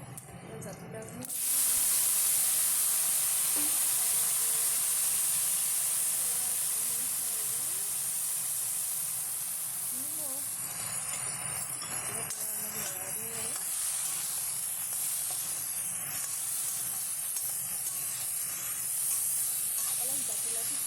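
Turmeric dropped into hot cooking oil bursts into a loud, continuous hiss that holds steady for the rest of the moment, with a voice faintly underneath.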